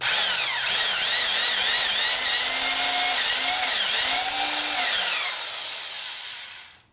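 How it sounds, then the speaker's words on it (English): A reamer cuts through a bushing in a 1961 Harley-Davidson Sportster XLCH transmission case, producing a loud, close, squealing metallic whine that rises and falls in repeated strokes before fading away at the end. "we just run the reamer down"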